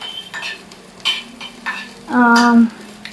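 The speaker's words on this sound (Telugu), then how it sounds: "ఇన్ని ధనియాలు తీసుకోవాలి తీసుకొని వాటిని మీడియం ఫ్లేమ్లోనే మనం వేయించుకోవాలి" Coriander seeds are dry-roasted on a medium flame and stirred in a pan, making a faint sizzle broken by several close, crisp scraping strokes and a short tonal clink near the end.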